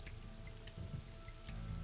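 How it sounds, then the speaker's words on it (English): Steady rain falling in a night scene of the video game AI: The Somnium Files, a soft continuous patter of drops heard alone under faint background tones. "This rain is awful, huh?"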